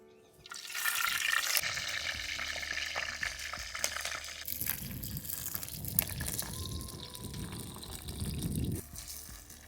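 Green chillies and cumin frying in hot oil give a steady, close, broadband sizzling hiss for most of the clip. It swells briefly near the end, and no one speaks.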